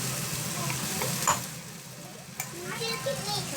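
Tomato and onion puree sizzles steadily in a hot pan, a continuous crackling hiss with occasional stirring clinks, close and fairly loud, with a voice speaking briefly over it.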